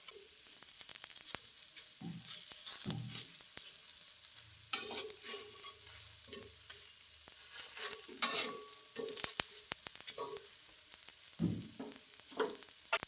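Slices of breadfruit (beru halasu) frying on a tava in oil over a medium flame, giving a soft, steady sizzle broken by scattered crackles and pops, quiet and close, with no talking.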